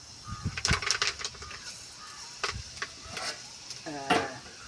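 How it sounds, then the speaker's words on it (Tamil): Fenugreek seeds in hot oil stirred with a ladle: scattered scraping clinks of metal on a pan come in bursts over a faint sizzle, with birds calling in the background. "வெந்தயம் போட்டுட்டு கரண்டி எடுத்து நல்லா கிண்டி விடுங்க."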